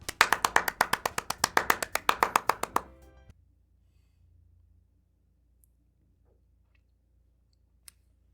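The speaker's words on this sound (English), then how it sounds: "Sayori finishes and we applaud." A quick burst of crisp, synthetic-sounding clapping from the video game Doki Doki Literature Club! lasts about three seconds, then cuts off into near silence with a couple of faint clicks.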